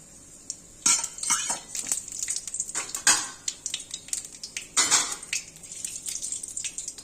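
Bay leaves and nigella seeds frying in a pan of oil, faint sizzle under scattered metallic clinks and scrapes of a spoon against the pan, no speech.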